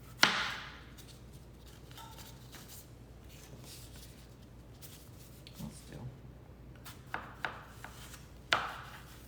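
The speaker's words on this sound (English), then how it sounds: "let me cut up another one here. Whack the ends off of it." A knife whacks the ends off a cucumber on a cutting board while making hot kosher dill pickles, one sharp chop at the start and a few more spaced thuds later, with quiet handling in between.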